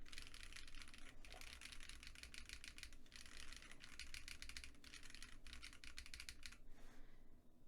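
Rapid bursts of crisp, clacky keystrokes on a mechanical keyboard with case foam installed, close and fairly quiet, arriving in several fast runs separated by short pauses before trailing off.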